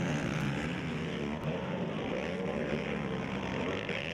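Several ATV racing machines roar at an outdoor motocross national in Spring Creek, their engines labouring and bogging down in deep sand, forming a loud, steady, blended drone that continues without pause.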